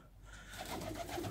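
Cooing from a pair of black Berlin long-billed fancy pigeons, soft low murmuring calls rising after a quiet start, close by and with no talking.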